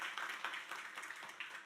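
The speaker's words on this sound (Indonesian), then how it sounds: "Tepuk tangan buat Yesus Tuhan." A church congregation claps hands together during a worship service, a dense, steady patter of many hands, moderately loud and continuous for a short stretch.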